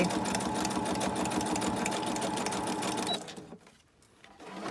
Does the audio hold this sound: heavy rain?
no